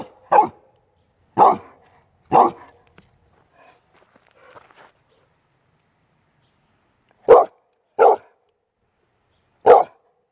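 A dog lets out six sharp, loud barks close by, three in quick succession, then a pause with faint shuffling, followed by three more spaced barks.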